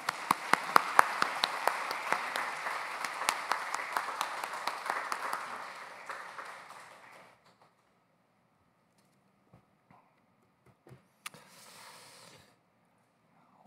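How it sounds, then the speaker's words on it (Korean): Church congregation giving an applause of encouragement to a pastor's wife and a missionary, dense clapping for about seven seconds that fades out, followed by near silence with a few faint stray sounds. "격려의 박수 보내겠습니다."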